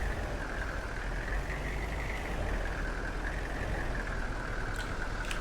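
Vehicle traffic drives past in a farming video game, heard as a steady, continuous engine and road rumble with a sustained mid-range drone, moderately loud and with no talk over it.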